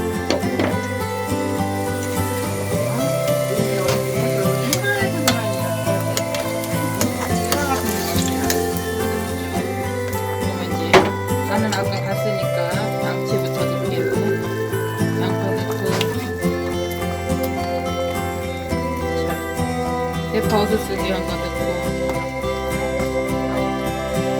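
Spicy braised chicken stew (dakdoritang) reducing over high heat, a steady bubbling sizzle running underneath background music for the whole stretch.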